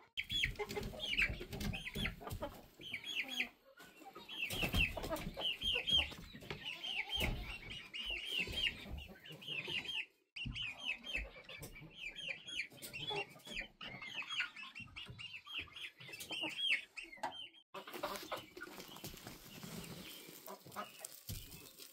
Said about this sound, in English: We are getting close to bedtime for the chickens, so almost everybody's in here.